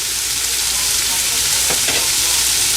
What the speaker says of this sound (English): Now I am going to add our green pepper powder,